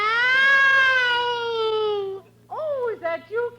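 A man imitates a cat's meow with a long drawn-out wavering wail, followed by a few shorter mewing yowls, close and loud.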